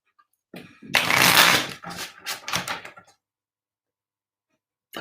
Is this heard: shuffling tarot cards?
yes